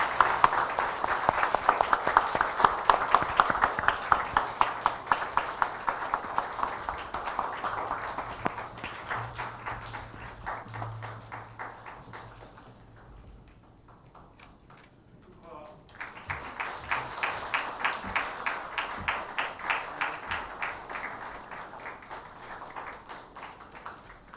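A church congregation applauds newly baptized members during a Korean Sunday worship service, with dense sustained clapping that fades to near quiet midway, then swells again into steady applause.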